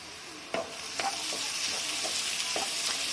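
Chopped garlic, onion and fennel seeds fry in oil in a pan for a gongura chicken curry, a steady close sizzle broken by several sharp clinks and scrapes of a spoon stirring, with no voices.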